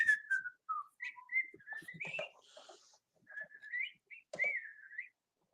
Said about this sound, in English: whistling softly under your breath